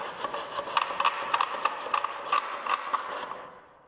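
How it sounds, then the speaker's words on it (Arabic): A hand saw cuts through a foam ceiling board during installation of foam gypsum-substitute panels, giving a steady series of close, rasping back-and-forth strokes that stop near the end. "الخطوه اللي بعد كده هنبدا تحط المنشار بتاعك بنفس الطريقه دي كده"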